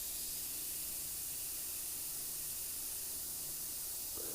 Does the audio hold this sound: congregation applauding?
no